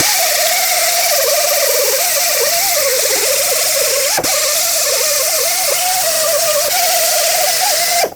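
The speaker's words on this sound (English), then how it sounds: "The way I'm going to do that is with a little sanding disc." A small sanding disc on a power tool cleans the wheel hub mounting surface of a 2007-2009 Saturn Aura during a front wheel bearing replacement, a loud, steady high whine with a wavering pitch that holds throughout.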